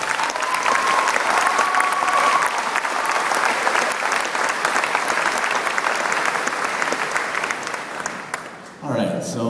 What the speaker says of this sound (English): he really deserves another round of applause